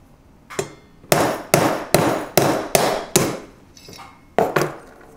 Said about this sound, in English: this disc cutter cuts quite nicely through the material